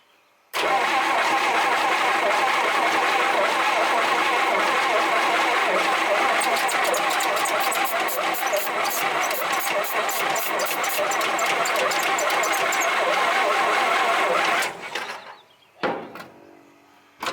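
An old vehicle that has sat for 32 years cranks for about fourteen seconds, a loud, steady churning grind that never catches, then cuts off abruptly into near silence.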